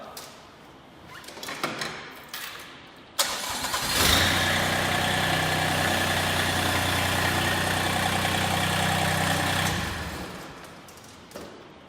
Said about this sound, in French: Maintenant, je peux reculer le tracteur.